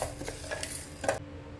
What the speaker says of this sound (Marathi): आणि आता हा मसाला चांगला खरपूस भाजून घ्यायचा